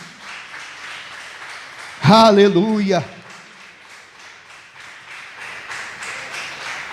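Steady church congregation applause runs through the whole stretch, with one voice briefly calling out loudly over it partway through.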